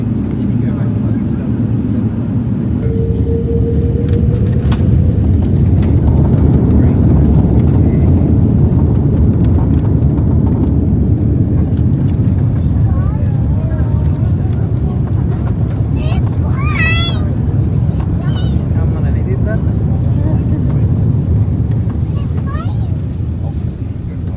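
An airliner lands in Sri Lanka after a long flight from Australia, its steady loud cabin roar of engines and airflow filling the whole stretch, with faint brief chirps and tones rising over the rumble.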